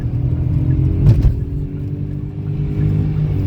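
A Kia Picanto 1.0 with a 67 hp engine and automatic gearbox accelerates at full throttle, its low engine drone steady and close from inside the cabin, with a brief thump midway.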